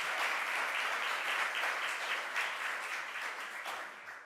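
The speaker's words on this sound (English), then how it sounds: "Let's give him a round of applause." An audience at a New York press event breaks into sustained applause, a dense wash of many hands clapping at moderate distance that eases slightly toward the end.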